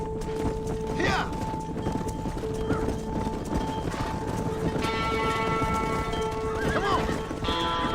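Horses in Red Dead Redemption gallop with steady, rapid clip-clop hoofbeats, broken by several shrill neighs and whinnies, while someone speaks briefly over the busy herd sounds.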